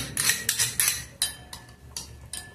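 Chicken and yogurt are stirred together in a bowl, a spoon scraping and clinking against the sides in a quick irregular series of close, sharp taps, with no talking.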